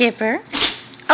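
A brief, sharp sneeze bursts out between bits of cheerful talk close to the microphone.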